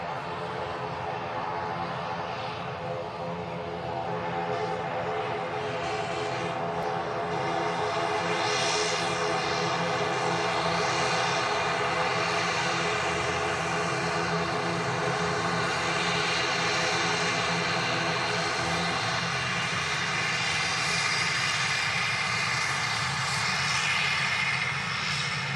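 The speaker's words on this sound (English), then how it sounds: "M737 on a taxi out too." Aircraft engines roar steadily at Manchester Airport as a Boeing 737 taxis out, a continuous broad drone at moderate distance that holds level throughout, with no clear speech over it.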